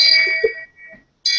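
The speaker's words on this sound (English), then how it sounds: "Oh, shame bell." A shame bell sound effect rings out as bright, sustained metallic tones that decay. After a short lull it strikes again, loud and close, with no talk over it.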